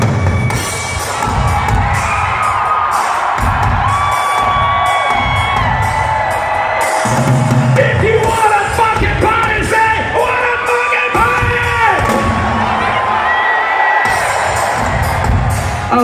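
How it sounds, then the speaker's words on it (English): A rock concert crowd cheering, yelling and whooping loudly and continuously, with voices rising and falling in waves. "Oh, so you're that type of crowd who wants to fucking party!"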